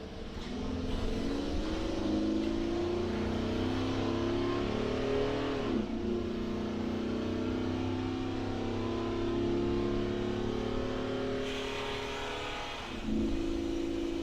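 A motorhome with a turbo 400 transmission and a Banks PedalMonster throttle unit climbs a hill, its engine droning and revving in a long rising pull, dipping briefly as it shifts, then climbing again, loud inside the cab.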